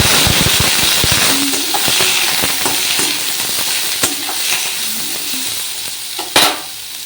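Eggplant pieces fry in hot oil in a pan, a loud, close, continuous crackling sizzle broken by the scrape and clatter of stirring and one sharper knock near the end.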